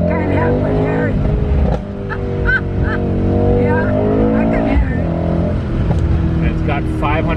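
A loud, deep 500-horsepower AMG V8 car engine rumbles and revs near the listener, its pitch rising and falling with throttle, while people talk over it.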